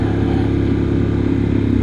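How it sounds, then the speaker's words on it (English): Moonshiner 28 motorcycle engine braking on a night ride, a steady loud low engine drone and rumble running throughout with no speech. "I'm just letting the engine do the job, and this bike is handling it great"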